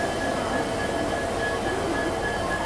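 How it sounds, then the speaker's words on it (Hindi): A diesel locomotive idles while shunting at a station with the Hirakhand Express, giving a dense, steady rumble and hum with a faint high whine throughout. "ज़बरदस्त डीजल लोकोमोटिव का साउंड सबसे पहले मैं आपको सुना दूं"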